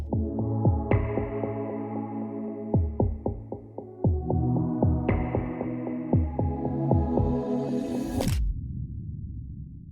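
A filtered R&B synth patch with a low-pass filter envelope and reverb plays repeated stabbed chords in a rhythmic pattern, each note sweeping in brightness, ending in a short bright swell and reverb tail.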